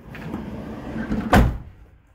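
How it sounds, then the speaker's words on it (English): A sliding side door on a 2021 Ford Transit Custom van is shut, with some rolling movement first and then a single loud, close slam near the end. "shut the door,"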